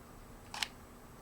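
A single quick mechanical shutter click from a Nikon D5000 camera triggered by remote, one short crisp snap close up in a quiet room.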